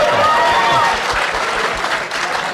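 Sustained audience applause with a few cheers, loud and steady throughout, a dense crowd clapping that thins slightly toward the end.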